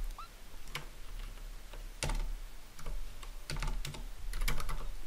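Keys clack in irregular bursts on a computer keyboard, close and fairly quiet, several quick taps clustered together with short pauses in between and no talking.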